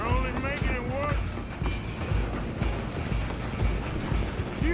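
Moving train in Red Dead Redemption 2, a rumbling rattle with rhythmic clanks and mechanical clatter running throughout, with voices speaking over it.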